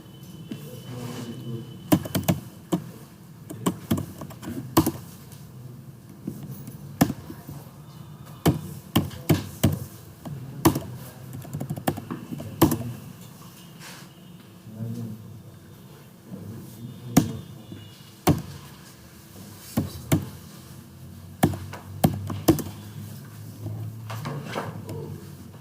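Clicky keystrokes on a computer keyboard while code is typed, arriving in irregular bursts and single taps at close range over a low room hum, with no voice over the keys.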